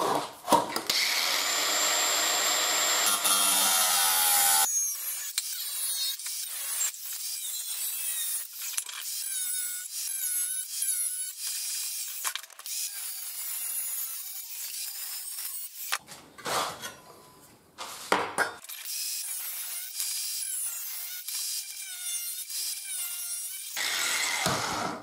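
Hand cutting of a marked brake reservoir cover for an Africa Twin motorcycle goes on steadily up close, a scratchy rasping texture lasting the whole stretch with a few brief pauses and no talk.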